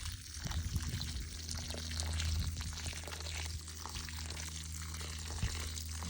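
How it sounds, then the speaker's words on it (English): Water poured gently from a hose with a sprayer onto newly planted onions, a steady soft trickle and splash that runs the whole time, close by, over a constant low hum. "give a good soak in here so everybody gets a good drink of water"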